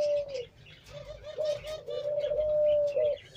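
A Teddy pigeon, a high-flying breed from Pakistan, coos in a continuous close, clear series of soft throaty notes with no talk over it.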